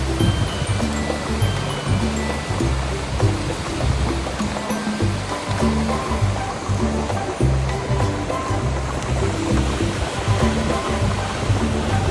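Steady rushing hot spring water flows continuously and loudly nearby on a sulfur mountain, a constant broadband wash with no voices over it.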